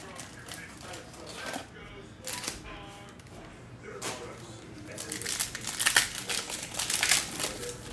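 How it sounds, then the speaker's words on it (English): A Panini Prizm football card blaster pack is torn open, with bursts of crinkling foil and plastic wrapper that grow busier and louder toward the end. "First time ripping one of these Prizm blasters."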